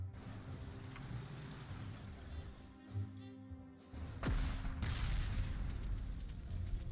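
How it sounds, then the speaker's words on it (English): Artillery fire striking a tank destroyer in the Panzer Corps 2 strategy game, a series of booming impacts and rumbling blasts building into a heavier sustained explosion near the end, with no talking. "It's a good hit against the tank destroyer."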